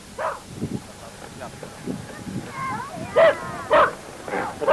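A dog yips and barks in short bursts outdoors in a rainy summer meadow, mixed with nearby voices chatting in Polish.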